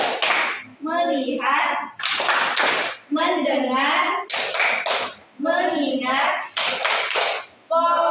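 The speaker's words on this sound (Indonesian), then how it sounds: "Ice breaking kita kali ini yaitu tepuk fokus." A classroom of children at a micro-teaching session performs the tepuk fokus clap routine: sharp bursts of group clapping alternate with loud chanted words from the class.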